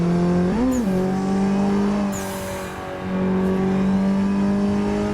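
A drift car's engine revs steadily while driving in a racing video game, a loud continuous tone that climbs briefly early on, dips slightly midway, then holds again, with no talking.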